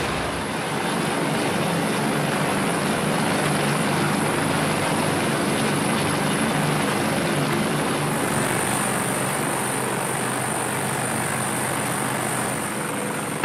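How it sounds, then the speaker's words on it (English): A helicopter's engine and rotors roar steadily at close range as it lands on the deck of the Coast Guard cutter USCGC Bertholf, a loud continuous drone with a high whine above it, with no voices. "With the day's training complete, the helicopter is brought back to the ship."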